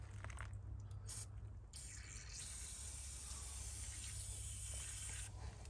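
A spray can of cleaner hisses in a few short bursts onto a Toyota Tundra's battery terminal, then one long sustained spray, close and fairly quiet.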